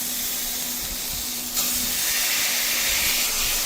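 Onions and soaked cowpeas sizzle in hot oil in a home kitchen, a steady close hiss that swells slightly louder partway through.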